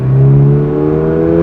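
A 2024 Toyota GR86 in track mode accelerates hard in second gear, a loud close engine drone holding steady harmonic tones that climb gently.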